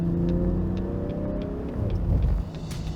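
A Land Rover Defender 90 engine revs steadily, a smooth, grunty car engine drone that holds fairly loud and close throughout, lifting briefly near the end.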